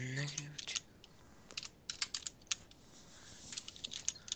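Rapid typing on a computer keyboard, entering coordinates into an in-game chat during Minecraft play; bursts of close, crisp key clicks after a brief voice at the start.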